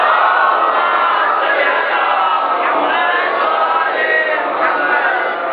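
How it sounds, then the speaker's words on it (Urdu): A large crowd at a 15 Shaban Jashan religious celebration in Jhamra, Chakwal, recites salawat together, a loud, dense and continuous roar of many voices chanting in unison. "جشن والی صلوات سارے مل کے بلند آواز میں۔"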